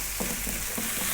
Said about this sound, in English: We're going to go for 5 minutes, stirring pretty much all of the time.